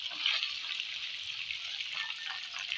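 Garlic, ginger and onion fry in hot oil with a steady, fairly quiet sizzle that keeps up evenly throughout, with no talking.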